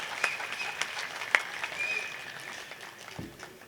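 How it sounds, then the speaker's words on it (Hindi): Scattered claps and light applause from an audience at a Hindi poetry recital (kavi sammelan) in Rampur, with sharp individual hand claps over a steady room murmur and no spoken words. "अरे तो ताली बजाओ।"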